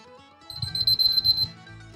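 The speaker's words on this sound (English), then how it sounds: "The Nice alarm clock works very well." An alarm clock rings, a bright high electronic tone pulsing rapidly for about a second over a buzzing low rattle, then cutting off.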